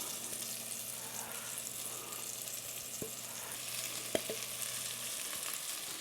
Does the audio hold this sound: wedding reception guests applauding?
no